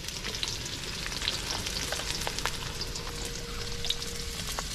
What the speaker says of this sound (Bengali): তেলে প্রথমে আমরা কাঁচা লঙ্কা দিয়ে নিলাম, তারপরে পেঁয়াজ দিয়ে দিলাম